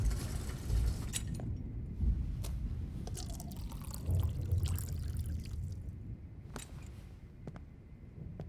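Water poured and dripping in the video game Life is Strange Remastered, a steady trickling stream with scattered drips close by, alone without talk.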